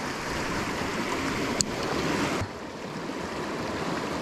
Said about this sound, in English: Water here is a little wild for the worms and the bobber.